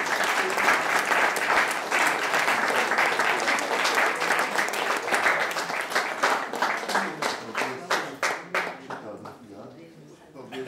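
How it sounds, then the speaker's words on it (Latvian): A church congregation applauds at a course graduation in a Latvian parish, a steady full round of clapping that thins into scattered, separate claps toward the end, with voices underneath. "aplausi visiem!"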